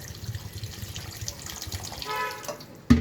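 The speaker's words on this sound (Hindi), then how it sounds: "और साथ ही हम इसमें डालेंगे अब पानी, तकरीबन 2 गिलास के करीब" Water poured into a cooking pot of chicken with fennel seeds and other spices, about two glasses' worth, a steady close splashing pour that swells toward the end before a sharp knock.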